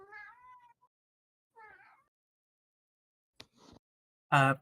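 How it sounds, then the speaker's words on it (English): A cat meows several times: two soft, drawn-out mews, a short chirp, then a louder, sharper meow at the end, close and alone in otherwise silent surroundings. "Please do make sure that there aren't a bunch of cat noises during session."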